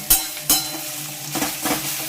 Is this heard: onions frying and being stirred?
yes